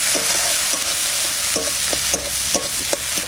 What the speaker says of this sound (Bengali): পেঁয়াজটা একটু ভাজা ভাজা করে নিলাম